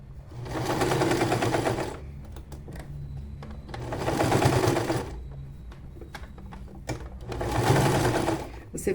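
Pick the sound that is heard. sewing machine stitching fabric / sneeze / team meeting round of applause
sewing machine stitching fabric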